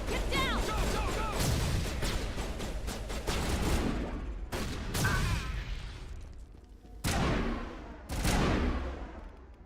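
Gunfire erupts in a Mass Effect: Legendary Edition firefight, dense overlapping shots and impacts in loud bursts broken by brief pauses, with faint voices beneath.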